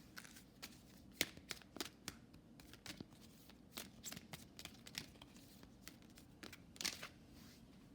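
Angel cards handled and shuffled close up, giving a steady run of quick riffling, flicking and papery snaps at low volume, with no talking.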